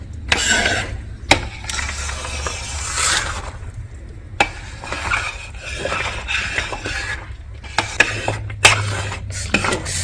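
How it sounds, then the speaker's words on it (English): A spoon scrapes and clinks against a pot as prasad mixture is stirred over low heat, with a steady run of scraping and rubbing broken by sharp metallic taps, close up and alone. "We must continue patiently with the stirring"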